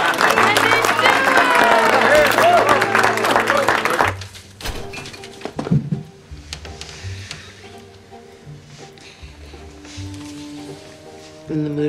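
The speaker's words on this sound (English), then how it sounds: "Let's have a big round of applause for the genius behind it all." Loud crowd applause and cheering fill the opening four seconds for an entertainer being introduced, then drop away to quieter sounds and music-like tones.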